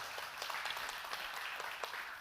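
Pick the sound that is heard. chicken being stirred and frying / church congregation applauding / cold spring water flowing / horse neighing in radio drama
church congregation applauding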